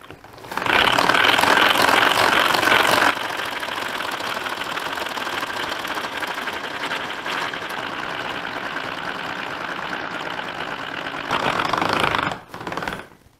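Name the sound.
Tupperware Speedy mixer whipping cream for chantilly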